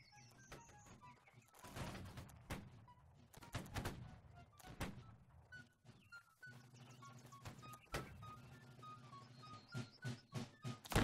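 Cannon and musket fire from Holdfast: Nations At War: scattered sharp reports crack out irregularly, some sharp and near, others duller, quickening into a ragged ripple of shots near the end over a low background hum.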